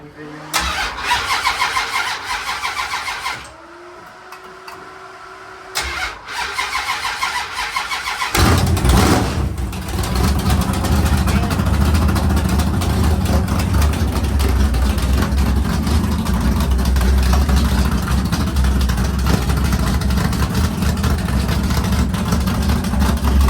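A 500ci Mopar V8 car engine cranks and fires up loudly, then settles into a steady, rumbling idle that fills the rest of the recording, with an exhaust leak at one tube.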